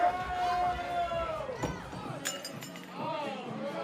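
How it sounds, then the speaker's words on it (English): At a live bartending competition, glass clinks and cracks amid a noisy room, with sharp brittle hits standing out briefly over constant crowd chatter and an announcer's voice. "Glass breakage."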